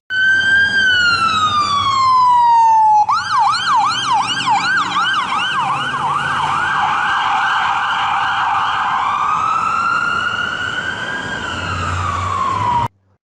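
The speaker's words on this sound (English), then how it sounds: "That each time I hear sirens" Loud, close emergency vehicle sirens, first a long descending wail, then a fast rising-and-falling yelp, then a slower wail, sounding continuously with no talk.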